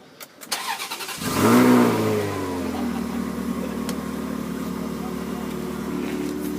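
A Maserati 4200 GranSport with a stainless exhaust starts up loudly, flares into a brief rev, then settles into a steady, rumbling idle close by.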